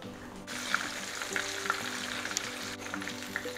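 Southern fried pies cook in hot oil with a soft, even sizzle and occasional small pops, quiet and close, with no one talking over it.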